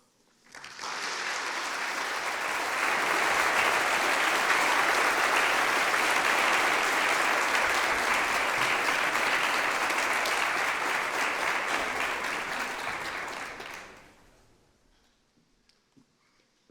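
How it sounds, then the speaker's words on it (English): An audience at a storytelling event applauds the storytellers, a full, loud wash of clapping that holds for about thirteen seconds before fading quickly to near silence. "Could we applaud all 5 of them again one more time?"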